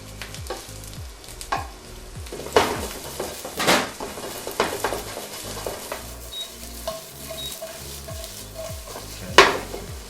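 Potatoes fry in a pan with a steady sizzle, broken by repeated loud scrapes and clanks of a utensil stirring against the pan, with no talking.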